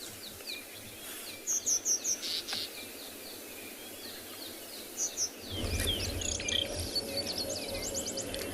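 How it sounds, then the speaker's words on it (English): Birds call around a dam at sunrise in the bush, with repeated chirps and short whistled phrases over a steady hum of insects, and a low rumble that thickens in the second half. "It's rather peaceful, but lots of birds calling."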